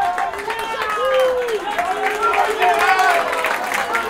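Crowd applause and cheering at a Copa Chile football match between Rancagua Sur and Chimbarongo FC as a player is substituted, steady clapping from the stands mixed with a commentator speaking over it.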